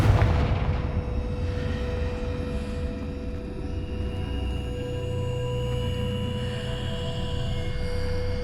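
Confringo blasting spell from Hogwarts Legacy, a booming explosive burst at the start that rolls into a sustained low rumble and ringing tones, loud and close without speech.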